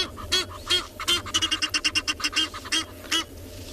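Egyptian geese at a sunrise safari give a run of loud, harsh honking calls, rapid and repeated in a quick stuttering series, close by and with no talk over them.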